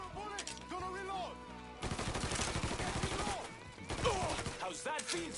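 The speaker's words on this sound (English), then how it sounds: "Shoot him!" Rapid gunfire rattles in a Mafia 3 firefight: a dense burst of shots in the middle and scattered shots around it, with voices talking before and after.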